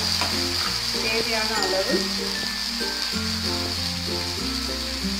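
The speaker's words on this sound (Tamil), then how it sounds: "இது நல்லா வதங்கி வரட்டும், கொஞ்சம் வெயிட் பண்ணலாம்" Onions and tomatoes sautéing in a pan for egg thokku, a steady close sizzle and fry with stirring throughout, while someone talks over it.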